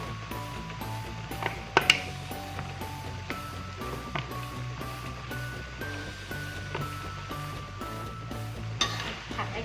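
Enoki mushrooms stir-fried with chicken blood in a pan, a steady close sizzle with frequent scraping and clinking of a spatula against the pan, with a couple of sharper knocks near the start and no talk.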